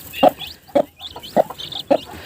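A brooding hen clucks near her mixed brood of chicks and guinea fowl keets, four evenly spaced low clucks close by, with thin high peeping from the young in between.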